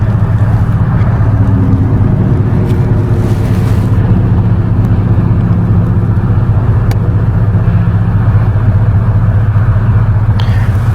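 A 1992 Dodge Dakota cruises on a highway at about 60 mph and 2,200 RPM with a vibration, heard from inside as a loud, steady engine and road drone with constant low rumble throughout.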